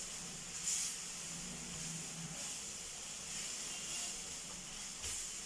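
Milk poured into a hot pan for chicken potato croquettes, a soft steady hiss and sizzle, faint and continuous with small bubbling swells, no talk.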